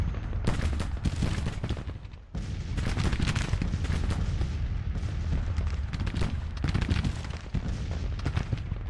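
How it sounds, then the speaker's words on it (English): Artillery roars across an 1863 Civil War battlefield in Grand Tactician: a dense, continuous barrage of booming cannon fire and crackling volleys, loud and sustained, with a brief lull near the start before the firing resumes. "artillery's up, blasting"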